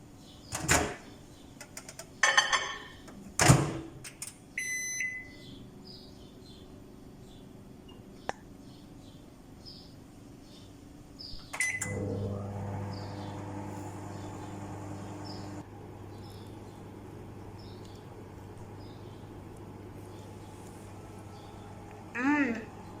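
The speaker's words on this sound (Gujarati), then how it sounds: "હવે માઇક્રોવેવ 2 મિનિટ મૂકો." Microwave oven in a home kitchen: a few clattering clicks and knocks as the door shuts and buttons are pressed, then a steady low hum of the oven running, with a faint beep near the end.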